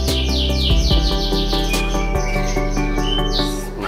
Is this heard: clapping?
no